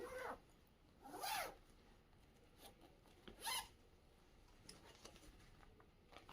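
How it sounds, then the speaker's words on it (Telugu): Zipper on a transparent plastic saree storage bag being pulled, two distinct quick zips with soft rubbing and handling rustle between them, close and fairly quiet. "పైన ఇట్లా జిప్ ఉంది."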